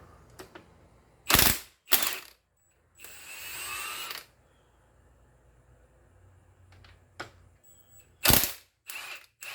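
Ratchet wrench turning the crankshaft of a Ford Ranger 2.5L engine during teardown, sharp close bursts of rapid clicking alternating with quieter spinning whir and pauses, in a quiet garage.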